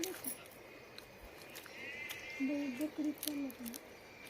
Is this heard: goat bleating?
yes